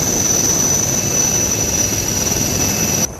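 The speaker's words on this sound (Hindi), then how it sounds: "देखिए किस तरह से इंडियन कोस्ट गार्ड का जवान हेलीकॉप्टर से उस छत पर उतर रहा है" Indian Coast Guard helicopter hovering over flooded rooftops during a rescue gives a loud, steady, unbroken rotor and turbine roar that cuts off abruptly near the end.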